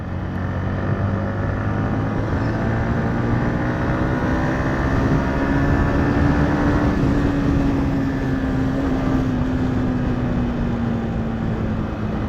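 Yamaha MT-15 motorcycle being ridden after a brake change, a loud steady engine drone close up with a rising and falling whine and constant wind rush throughout.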